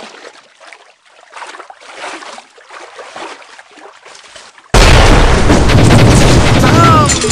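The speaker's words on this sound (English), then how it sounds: "Grenade launcher!" A grenade launcher fires in the Ramboat mobile video game with a sudden loud, sustained blast. It bursts in after several seconds of quieter, crackling game noise and stays dense and roaring to the end.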